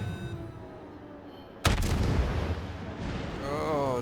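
Anti-aircraft guns of a Tier 9 Baltimore cruiser in the World of Warships naval game open up suddenly after a quiet stretch. A loud, dense burst of gunfire rolls into a sustained crackling barrage that keeps going to the end.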